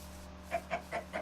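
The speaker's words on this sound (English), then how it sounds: "look at all these chickens" Four quick, evenly spaced clucks from chickens in the Minecraft video game, clear against a quiet, faintly humming background.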